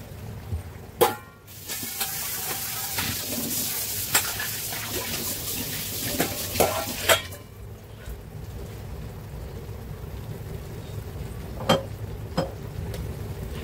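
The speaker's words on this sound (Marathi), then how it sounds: "आता त्याच्यात ना आपण हे कॉर्नफ्लॉवरचं पाणी टाकू" Cornflour water poured into a chicken and soy sauce mixture, giving close, wet squelching with clinks and scrapes of utensils against a bowl, steady and continuous.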